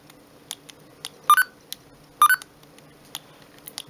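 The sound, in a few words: Siemens A52 mobile phone key press tones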